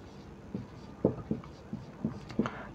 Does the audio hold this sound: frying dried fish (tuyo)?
no